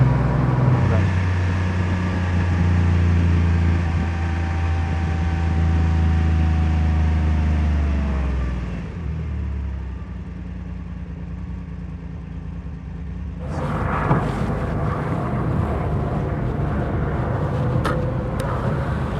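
A Porsche 911 Targa GTS engine hums inside the cabin, its pitch sliding down as it slows. Then a steady rumble continues with rougher road noise later.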